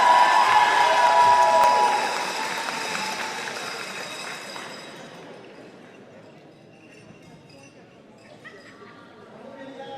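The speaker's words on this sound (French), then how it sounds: "Félicitations, on applaudit les gagnants." Crowd at a Quebec Games weightlifting competition in Sherbrooke applauds and cheers for medal winners, loud at first, then fading to a softer, scattered clapping that swells slightly again at the end.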